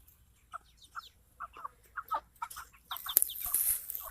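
Egg-laying chickens in a mobile chicken tractor, a series of soft clucks and short calls spaced irregularly, growing busier and louder with rustling toward the end.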